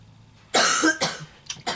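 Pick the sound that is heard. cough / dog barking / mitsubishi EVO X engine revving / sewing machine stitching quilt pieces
cough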